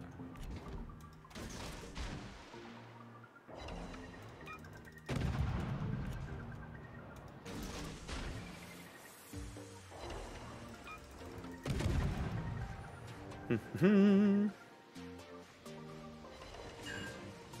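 Destroyer guns firing in World of Warships, a series of booming shots and blasts spread over the clip with quieter rumbling between, plus a short tonal alert near the end.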